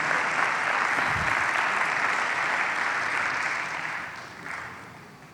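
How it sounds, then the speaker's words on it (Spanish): A church congregation keeps up sustained, even clapping in honor of the Lord, holding steady for several seconds before thinning and fading toward the end. "Dele un aplauso"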